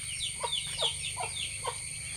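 Chickens at a village home, with a newly hatched chick nearby, give a run of soft, close clucks in an even rhythm of about four calls, with no talking over them.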